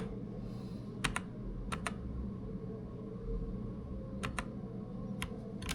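An Acer Nitro budget mechanical keyboard is pressed, giving sparse, crisp key clicks, mostly in pairs, over a low background hum. The clicks sound close and fairly faint.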